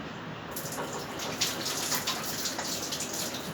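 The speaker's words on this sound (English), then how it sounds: "just going to wash my hands quick." A water tap runs while someone washes their hands, a steady close splashing gush that starts abruptly and continues evenly throughout.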